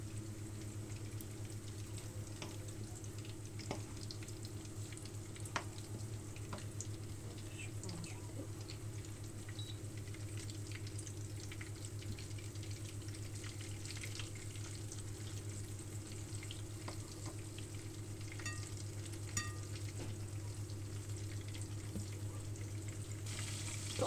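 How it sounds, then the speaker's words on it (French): Sardines fry in a pan with a steady, even sizzle that runs throughout, close and fairly quiet, with a few faint clicks and pops and no talking. "Pendant que les sardines cuisent"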